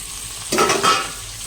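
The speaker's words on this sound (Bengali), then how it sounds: "এখানে সবজিগুলো দিয়েছি গাজর পেঁয়াজ কাঁচা লঙ্কা এবার ক্যাপসিকামটা দিয়ে দিলাম" Carrot, onion, green chilli and capsicum are tossed into a hot pan for egg chicken chowmein. A sudden loud sizzle bursts up for about half a second, then settles back to a low hiss.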